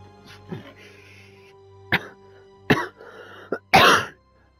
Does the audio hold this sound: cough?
yes